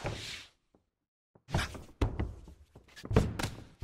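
Punches landing in a UFC 2 video game bout between Doo Ho Choi and Jose Aldo, a series of solid thuds and thumps in quick succession after a short quiet gap, fairly close and punchy.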